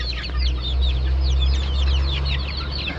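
Backyard chickens kept in a home-scale poultry coop cluck continuously in overlapping bursts, close and fairly loud over a steady low hum, with no one talking.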